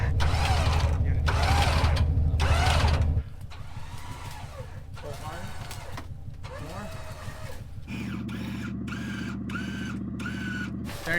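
Wrecker truck winch pulling a vehicle out around a tree, a continuous loud mechanical grinding and ratcheting drone that shifts in pitch partway through, with no talking.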